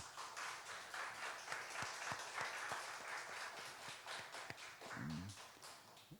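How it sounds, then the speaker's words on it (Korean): Church congregation at a Friday late-night prayer service applauding to encourage a young man, steady clapping throughout with a few sharper claps and a brief voice near the end. "우리 관태 청년 특별히 박수로 격려합니다"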